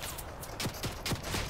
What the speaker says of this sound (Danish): Åh, der er skud.